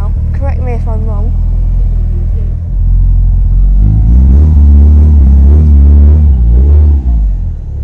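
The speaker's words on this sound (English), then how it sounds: "I think this is an Evo 8 and it's just on its way out." A Mitsubishi Evo 8 pulls out of a car park at a car meet outside a cafe, its engine rumbling and revving close by, with someone talking over the start of the drive-off.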